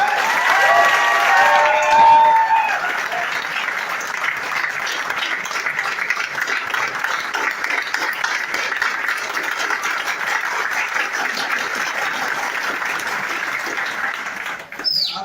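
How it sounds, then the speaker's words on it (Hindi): A packed hall audience at a Modicare leadership training session breaks into loud, sustained clapping, a brief burst of cheering at the start, then steady applause that continues for the whole stretch before cutting off abruptly at the end. "ताली बजाना आता है? तो बजाओ में भाड़ा थोड़ी लगता है, बजाओ।"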